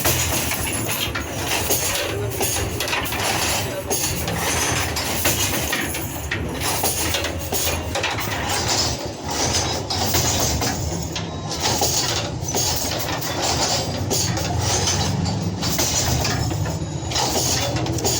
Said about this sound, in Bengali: মেন মেশিনটা হচ্ছে নিচেই। অ্যান্ড এখানে ওনারা বুনছেন এভাবে।